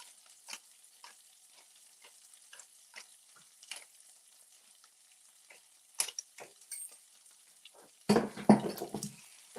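Gnocchi browning gently in a pan over very low heat, faint scattered crackles and light ticks, then a louder burst of pan scraping near the end.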